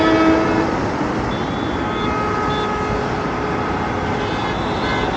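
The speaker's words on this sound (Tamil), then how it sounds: "ட்ரெயின் கீழேருந்து டனல்லேருந்து வருது" A train coming out of a tunnel near Lonavala, Maharashtra, rumbles past nearby in a steady, broad roar, with faint high tonal squeals from the wheels and rails.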